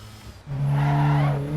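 A race car in the driving game Assetto Corsa EVO, its engine note swelling into a loud, sustained rev partway through, with a brief tire squeal, close and alone.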